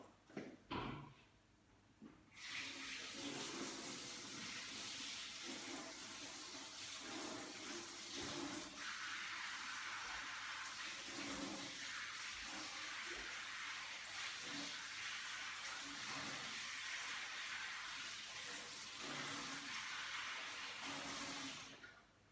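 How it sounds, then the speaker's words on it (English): A tap in a school food technology room runs steadily for about twenty seconds as hands are washed, a close, continuous rush of water that starts abruptly and stops near the end. "I'm just going to go and wash my hands."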